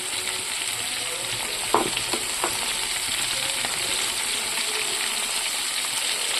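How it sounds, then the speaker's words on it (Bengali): Chopped onions fry and are stirred in a pan while meat is being cooked at a picnic, giving a steady loud sizzle with a few brief scraping clinks from the stirring. "তো পেঁয়াজগুলো দিয়ে আমি ভালো করে নাড়াচাড়া করে দিয়েছি।"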